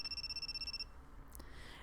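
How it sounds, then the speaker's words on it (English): An electronic phone rings with an incoming call in the love-story video game You and Me and Her, a rapid pulsing trill that repeats for under a second and then cuts off, leaving faint background hum. "Before I can answer, the ringing stops."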